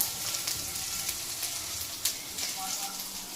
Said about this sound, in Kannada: ಇದು ಸ್ವಲ್ಪ ಫ್ರೈ ಆಗಲಿ